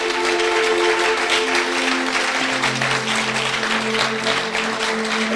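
A church congregation applauds and acclaims the Lord at the close of a sermon, a dense wash of clapping and cheering over steady sustained musical tones.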